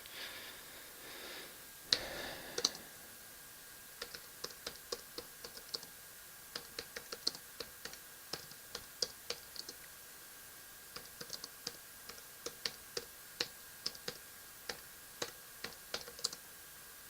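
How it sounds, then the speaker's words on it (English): Quick, light clicks of fingers tapping a computer keyboard in an irregular rapid rhythm, close and fairly quiet, with short pauses between bursts of keystrokes and no talking. "I just type with like 3 fingers. So I tend to mistype a lot"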